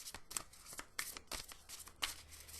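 Oracle cards are shuffled by hand in a quick series of crisp riffling bursts, close and fairly quiet, with brief pauses between them.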